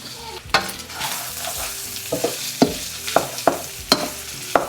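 Beef chunks fry with garlic in a pan over medium heat, with a loud, close sizzle punctuated by about eight sharp spatula scrapes and knocks in an uneven stirring rhythm.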